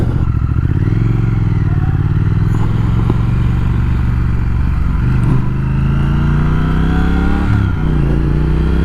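A 1200 cc twin-cylinder engine on a 2020 Triumph Speed Twin motorcycle revs steadily up close, throttle rising and easing with a deep, continuous rumble throughout.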